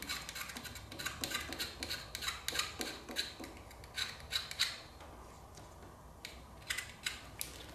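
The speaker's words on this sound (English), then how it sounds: "I'm just going to get my knife out and just do a little scraping in case there's any corrosion left" A knife scrapes corrosion off a V-Max motorcycle battery terminal in quick, faint, rhythmic strokes, with short pauses between the bursts of rasping.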